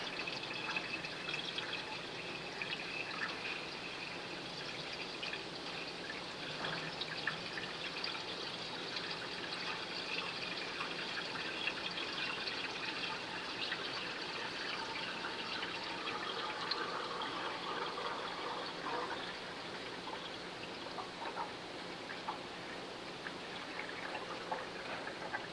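Water pours steadily from a fresh gallon jug into a truck's reservoir, a continuous close trickling and splashing that runs unbroken with no talking.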